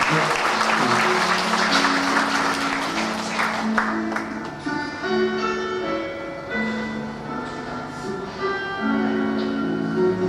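A church congregation at a Sunday service applauds warmly, a dense wash of clapping with sustained organ or keyboard chords beneath it that fades slightly midway and then continues.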